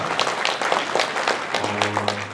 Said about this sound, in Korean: 꽃미남 우리 이기전 박수 한번 다시 부탁드리겠습니다